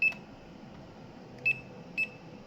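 A buzzer in a burnt electric meter base gives short, high electronic beeps, about four in a row at uneven half-second to second-long gaps, over a low, faint hum with no talk.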